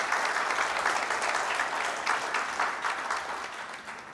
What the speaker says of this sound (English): Friends, I would like you all to give a strong applause to our Honorable Minister